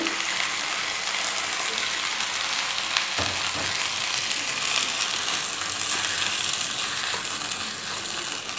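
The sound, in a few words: stirring and sautéing sabudana khichdi in a pan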